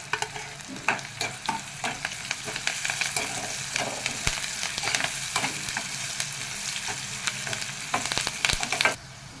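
Ivy gourd with curry leaves fries in a pan, giving a steady close sizzle broken by frequent spatula scrapes and knocks, until the sound cuts off sharply near the end.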